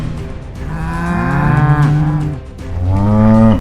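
A cow moos loudly and close by several times in a row. Long low calls rise and fall and overlap with one another, with no talking over them.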